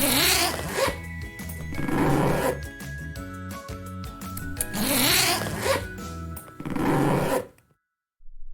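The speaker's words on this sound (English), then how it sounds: "It's the sound of something zipping." A clothing zipper is pulled in several quick, close raspy strokes, with pauses between them and a clean stop near the end.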